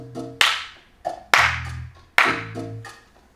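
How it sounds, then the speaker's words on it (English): Sharp hand claps ring out in a 3-2 salsa clave pattern at about 100 bpm, each clap crisp and close, with soft tones sounding between them. "So this is a 3-2 clap now"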